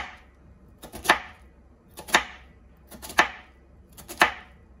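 Knife chopping vegetables on a cutting board for vegan spaghetti: four evenly spaced crisp cuts, about one per second, close and moderately loud.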